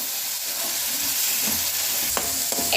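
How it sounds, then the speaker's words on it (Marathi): Onion paste fries in a pan, giving a steady loud sizzle with soft scrapes and a couple of clinks as it is stirred for a restaurant-style masala paneer mixed vegetable curry. "कांदा पेस्ट घालत आहे. मिश्रण एकजीव करून घेऊया."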